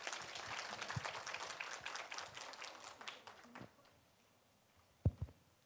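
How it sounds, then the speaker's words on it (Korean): Applause from a small community-library gathering welcomes a speaker, a brief burst of clapping that fades after a few seconds, followed by a couple of isolated knocks. "우리 장민수 의원님 뜨거운 박수로 맞이해 주세요."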